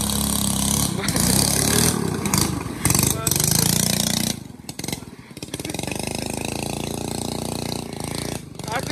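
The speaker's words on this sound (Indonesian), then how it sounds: "Kita sudah dengar suaranya di sana. Mesin 6 PK underbunnya." A small 6 HP underbone engine on a boat on a river runs loudly with a buzzing, sputtering drone that dips in the middle and then picks back up, with voices talking over it.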